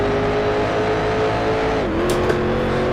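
A racing car engine in the Grand Prix Legends racing game holds a loud, steady high-pitched drone that dips briefly in pitch before climbing again as it accelerates, close and continuous with no talk.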